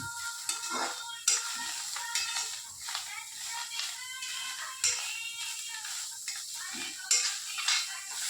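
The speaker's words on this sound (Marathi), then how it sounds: "आता इथं आपण कांद्याला भाजून घेणार आहोत." Onions dry-roast without oil in a pan over a full gas flame, stirred with a metal utensil that scrapes and clinks repeatedly over a light crackling sizzle.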